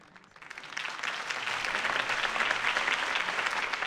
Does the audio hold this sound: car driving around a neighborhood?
no